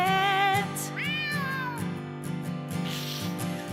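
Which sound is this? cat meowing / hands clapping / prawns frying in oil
cat meowing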